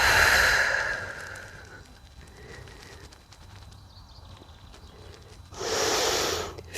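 Breathing during yoga side bends: a loud exhale-like rush at the start, then quiet soft breaths, followed by another strong breath near the end, close to the microphone with no speech.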